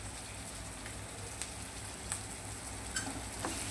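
Spices and yogurt sizzle in hot oil in a pan for chana masala, a steady, soft frying hiss with occasional small pops and faint stirring, with no talk.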